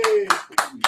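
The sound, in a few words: applause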